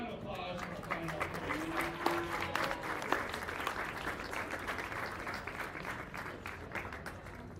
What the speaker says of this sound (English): Round of applause for our final